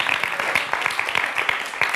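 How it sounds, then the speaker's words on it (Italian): A television audience applauds for a presenter at a retrospective on his decades-long TV career; steady, dense clapping fills the whole stretch at moderate loudness with no talk over it. "per gli applausi"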